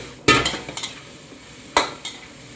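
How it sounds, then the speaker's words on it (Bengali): Cabbage stirred while frying in a pan after salt goes in, with two sharp bursts of spatula scraping and clatter against the pan, the second after a short pause, over a faint sizzle and no talk. "দেওয়ার পরে আবার একটু নাড়াচাড়া দিয়ে নেব।"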